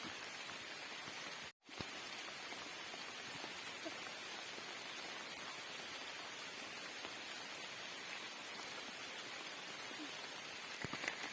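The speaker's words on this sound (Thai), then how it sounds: "ไปวางกับดักก็ไปไม่ได้ครับฝนตกทั้งวัน" Steady rain pours down across a hillside farm in the highlands, a dense, even hiss of drops on surfaces that continues throughout with one brief dropout near the start.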